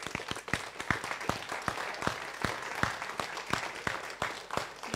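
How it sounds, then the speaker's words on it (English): Audience applause at a school jazz concert, dense steady clapping from a crowd lasting throughout, moderately loud with no talking. "could you please give your parents a great big round of applause for all their support?"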